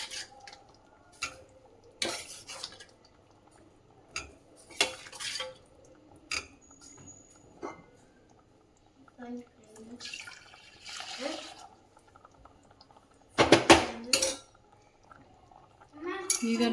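Cooked dal methi kadubu dumplings being dropped into a pan on low flame, heard as intermittent clinks and soft knocks of utensil and pan, with brief murmuring voice sounds between them.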